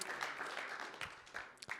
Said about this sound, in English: If everyone could give David a round of applause.